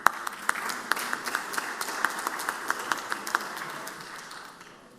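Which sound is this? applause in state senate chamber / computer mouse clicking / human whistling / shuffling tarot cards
applause in state senate chamber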